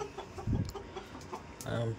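A laying hen clucking near its nest on a backyard farm, a few short close clucks over two seconds, with a faint voice in the background.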